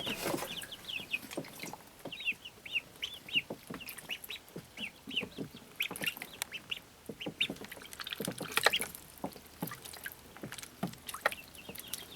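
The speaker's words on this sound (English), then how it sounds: "There the ducks are playing." Ducks and chickens at an off-grid homestead, including Silkie hens and young ducklings, chatter, cluck and quack continuously and fairly close, with bursts of overlapping calls and no speech.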